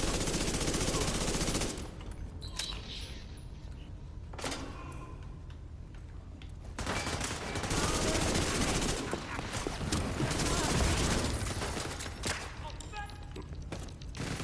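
Gunfire in the Division 2 video game, with loud bursts of automatic shooting and quieter stretches between them while players talk over the shooting.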